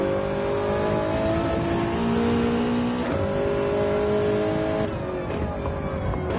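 A race car engine on a hot lap in a sim racing game, holding a steady, loud, high-revving drone with pitch climbing through gears and brief shift breaks near three and five seconds, no talk.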